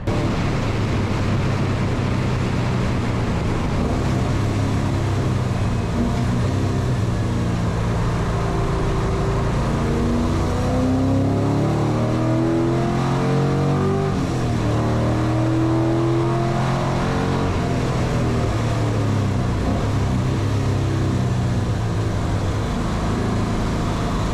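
An LS V8-swapped Holden Commodore VS endurance race car laps the Barbagallo circuit, heard from on board: a loud, continuous engine note climbs and falls through repeated revs and gear changes for the whole stretch, with no talking.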